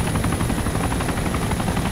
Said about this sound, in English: Because you picked the biggest fucking helicopter there.